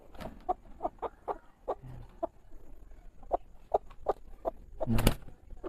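A silkie hen clucks in a run of short, soft, evenly spaced calls close by, ending in a louder, sharper squawk.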